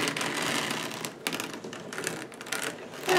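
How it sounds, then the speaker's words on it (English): Icelandic sheep wool being carded on a hand-cranked drum carder, a close rapid rattling and scratching with short pauses between bursts as the drum turns. "Having a drum carder is very nice."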